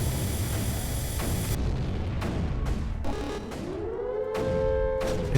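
Cannons fire in Creeper World 3 with a series of deep, punchy booms at irregular intervals, followed by a rising whine, with no one talking.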